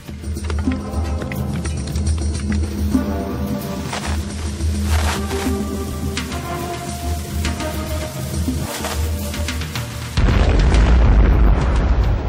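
A heavy, rumbling blast from mined fortress foundations during an Ottoman siege, a dense sustained roar with scattered booms and crackles, swelling louder in the last couple of seconds.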